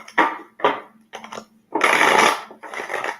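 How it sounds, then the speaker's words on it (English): A neighbor's lawnmower cuts grass outside, its motor noise swelling in several uneven bursts with brief lulls between them, heard alone without talk. "And if you can hear the lawnmower"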